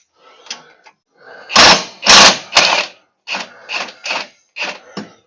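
An impact wrench loosens a bolt on the electric clutch of a John Deere 652R Stander mower. It fires in several short, loud, close rattling bursts separated by brief pauses.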